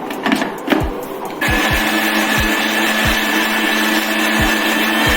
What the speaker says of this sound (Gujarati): આ બધું મિક્સરમાં સાથે મિક્સ કરી અને એને આપણે ચર્ન કરી લેવાનું છે, પીસી લેવાનું છે